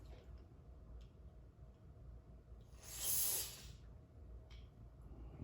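Carb cleaner sprayed into the emulsion tube of a Toro Recycler lawn mower carburetor: one short, close, loud hissing burst rising over a quiet background with faint ticks.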